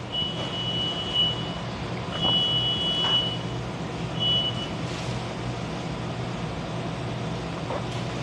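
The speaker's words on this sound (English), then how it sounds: "That's a loud beep." A truck's reversing alarm sounds on a roadside in Hammond, Louisiana, giving several loud, shrill repeated beeps over a low steady rumble of traffic and engine noise.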